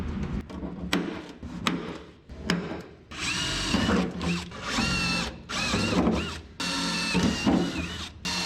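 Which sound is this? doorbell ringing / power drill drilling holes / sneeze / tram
power drill drilling holes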